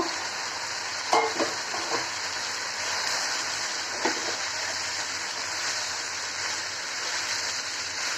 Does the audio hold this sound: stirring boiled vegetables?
yes